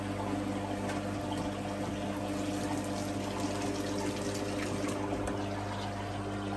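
Steady bubbling water from an air bubbler in a koi quarantine tank, a continuous faint gurgle over a constant low mechanical hum.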